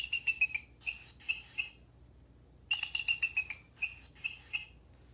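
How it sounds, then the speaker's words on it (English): A recorded bald eagle call plays as two bursts of rapid, high, thin piping chirps separated by a short pause. "So one more time, let's listen to our bald eagle."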